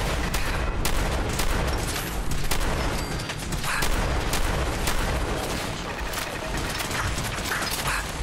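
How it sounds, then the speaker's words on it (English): Automated turrets fire in the video game Fallout 4, a dense, continuous barrage of loud gunfire and mechanical clatter that fills the whole stretch with no pause. "So many turrets!"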